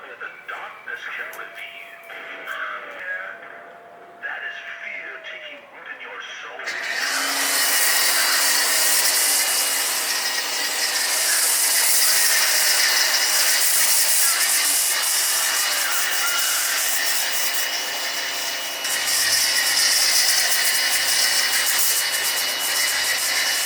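An ABOSun foam cannon spraying soap onto a vehicle: after a few seconds of quiet background, a loud, close, steady rushing hiss of pressurised spray runs continuously to the end.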